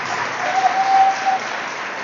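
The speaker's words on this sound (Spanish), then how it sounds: "Un gran aplauso a los que se juntan," Church congregation clapping for newcomers joining the church, a steady, close, fairly loud patter of many hands with no speech over it.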